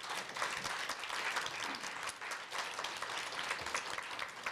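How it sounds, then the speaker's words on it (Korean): Sustained applause from an audience at a Korea University special guest lecture, greeting introduced dignitaries; dense steady clapping fills the whole stretch at moderate, even level with no voices over it. "큰 박수 부탁드리겠습니다."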